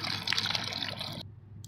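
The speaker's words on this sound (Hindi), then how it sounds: "इसमें 1 लीटर पानी की बोतल मैंने भरी है, इसमें ये पानी डाल देती हूँ" Water poured from a one-litre bottle into a container of homemade organic fertilizer for eggplants, a steady close splashing trickle that runs for just over a second, then stops abruptly.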